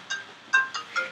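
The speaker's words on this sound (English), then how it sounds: "1 second, please. That's my phone." A mobile phone ringtone plays a short electronic melody of four bright chiming pulses, close and clear against a quiet room.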